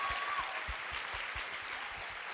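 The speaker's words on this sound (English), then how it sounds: "The party hosts really deserve a huge round of applause." Conference audience applauding the party hosts at a blogging event, a dense burst of clapping from a large crowd, loud at first and then settling into a steady patter.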